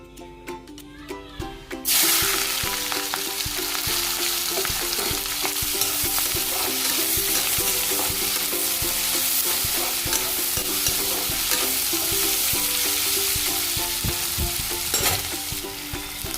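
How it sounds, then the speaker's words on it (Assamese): Onions frying in a modest amount of oil in a kadai, a loud, steady sizzle that bursts in after a quiet opening and runs unbroken under soft background music, with occasional clinks. "পিঁয়াজটো মই অকণমান বাদামী কালাৰ হোৱালৈকে ভাজি লওঁ"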